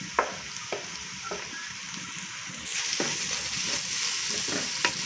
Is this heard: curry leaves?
yes